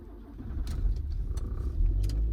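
A car engine turns over and starts on a February morning at minus 9 °C, a low rumbling idle that builds unevenly, with a few light clicks and rattles over the top.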